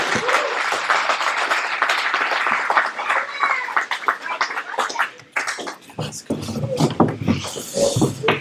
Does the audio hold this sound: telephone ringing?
no